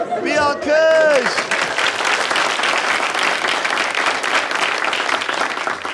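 A studio audience on a Turkish talk show bursts into loud, steady applause right after a brief spoken line at the start, dense clapping continuing to the end.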